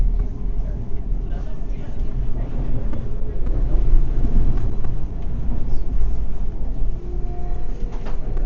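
A Metro Vancouver train bound for Richmond rumbles continuously across the North Arm Bridge, loud and close, with a person talking over the noise.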